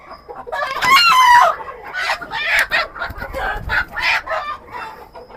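Black chickens on a rooftop poultry farm cluck and squawk loudly as they are caught, with one sharp crowing-like call early and a string of agitated clucks following close by.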